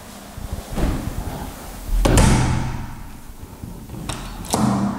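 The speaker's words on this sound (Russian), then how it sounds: "Здесь мы видим, что одна из дверей, которую мы решили проверить, достаточно мягко и даже мелодично закрывается." Interior door in a 90 sq m house near Anapa closing softly, a few dull thuds and latch clicks spread over the clip with a quiet room in between, no talking.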